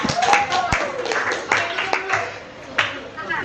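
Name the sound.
applause after a group presentation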